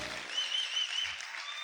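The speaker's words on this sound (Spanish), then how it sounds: "Aplaude fuerte al Señor." A church congregation applauding the Lord during a worship service: a steady, continuous roar of many hands clapping at once, heard from some distance, with a faint low thump partway through.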